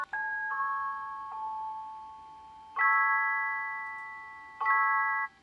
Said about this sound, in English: There's like bells.